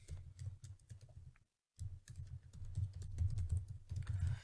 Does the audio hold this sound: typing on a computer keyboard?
yes